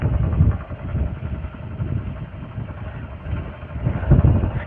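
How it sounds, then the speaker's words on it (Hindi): Motorcycle on a cold mountain road, its engine running steadily with an irregular rattling knock, loudest at the start and near the end, with no talk over it. "बाइकबाट साउन्ड आउँदैछ"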